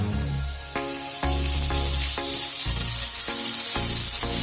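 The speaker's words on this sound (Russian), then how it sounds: "Главное жарить на среднем огне, чтобы она у нас не подгорела." Liver deep-frying in hot oil over medium heat gives a loud, steady sizzle throughout, with music playing underneath.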